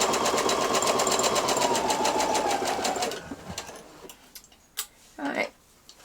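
A sewing machine with a twin needle hems a T-shirt, running fast and steady for about three seconds with a rhythmic ticking whir, then stopping, followed by a few handling knocks and a voice.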